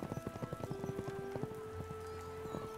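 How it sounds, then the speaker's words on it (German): A racehorse gallops in a quick, rhythmic run of hoof beats, moderately close, while a sustained tonal hum and a lower drone run underneath. "Ein wunderschönes Pferd."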